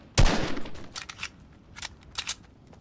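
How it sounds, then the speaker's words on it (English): Gunshots from the Fortnite video game: one sharp blast followed by a few lighter, spaced reports, fairly close and with no voices over them. "Can you hear these shots?"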